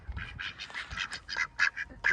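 Ducks quacking outdoors in a loose, overlapping flurry of short nasal calls, close and fairly loud, with no talking over them.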